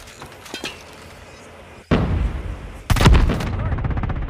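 Sniper gunfire in a first-person shooter match: a sharp, loud crack that rings out and echoes, then a second heavy report about a second later, over quieter game sounds with faint clicking before.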